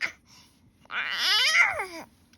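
An infant babbles early in the morning, a rising and falling run of vocal sounds lasting about a second, close and clear with a brief sound at the start.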